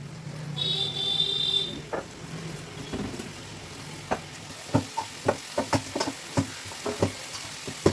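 Chickpeas roasting in a pan, a faint steady sizzle under scattered stirring clatters and scrapes, with a brief whistle-like tone early on.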